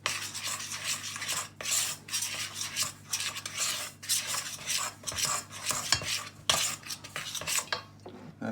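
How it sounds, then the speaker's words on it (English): A spoon mixes quiche dough in a bowl with repeated scraping and rubbing strokes against the sides in an uneven rhythm, close and fairly soft, with no talk. "Take your spoon, just combine it."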